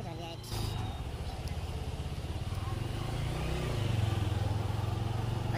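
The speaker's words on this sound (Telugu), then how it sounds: "మనం బైక్ మీద పోతున్నాం" A motorcycle engine drones steadily while riding on the road to Srisailam, close and continuous, pitch rising slightly as it speeds up, with wind buffeting and a voice faintly underneath.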